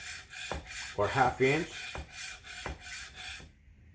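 Chef knife sharpened on a whetstone with steady back-and-forth strokes, a series of soft rhythmic scraping rubs, close and quiet, with a person talking over them before the sound stops near the end.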